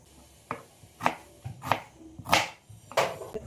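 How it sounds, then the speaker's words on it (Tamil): A knife chops onion on a cutting board in a home kitchen, with about six evenly spaced, close thuds at a steady rhythm and no talking. "இப்போ இந்த வெங்காயத்தை கட் பண்ணி எடுத்துக்குவோம்."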